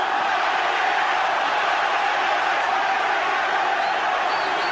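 A loud boxing crowd roars and cheers continuously throughout a late-round fight between Erik Morales and Marco Antonio Barrera, a dense, steady wall of noise with no pauses.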